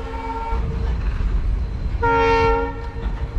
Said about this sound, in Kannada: ಫೈನಲಿ ಆ ಟ್ರೈನ್ ರೀಚೆಡ್ ಪೋಖ್ರಾನ್